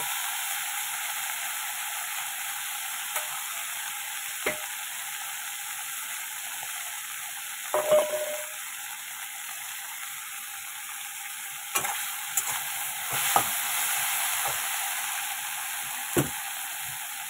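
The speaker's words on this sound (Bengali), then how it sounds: "পেঁয়াজ দিয়ে যে ভেন্ডিগুলো ভাজবো সেগুলো ঢেলে দিলাম" Sliced okra and onion fry in oil in a pan, a loud, continuous close-up sizzle broken by occasional knocks and scrapes of stirring.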